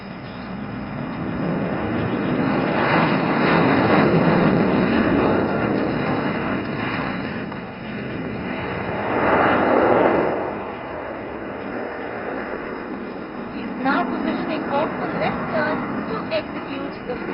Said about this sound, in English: Can you hear the engines of the Sukhoi roaring in to take off in front of you?